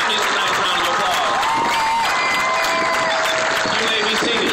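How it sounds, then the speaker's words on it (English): A graduation audience claps loudly and continuously, a thick wash of applause with some cheering mixed in, recorded close and heavy. "So give yourselves a nice round of applause and give your families a nice round of applause."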